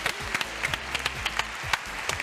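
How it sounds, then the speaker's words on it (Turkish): Applause from a group, scattered hand claps in a fairly steady patter over a low background hum. "bir alkış alalım lütfen"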